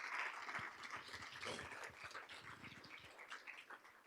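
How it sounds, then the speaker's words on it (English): Applause at a school board meeting honoring student artists and staff, a fairly quiet, moderately dense clapping from a small audience that carries on steadily throughout. "Let's give those outstanding student artists and staff a round of applause"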